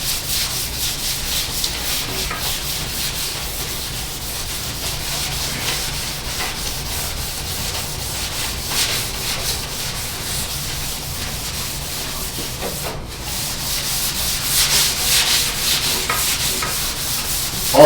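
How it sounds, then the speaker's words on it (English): Wet sanding by hand on primer over a boat deck lid mold plug, a steady, close rhythmic rubbing and scraping that continues for the whole stretch with slight surges in pressure. "We're wet sanding now."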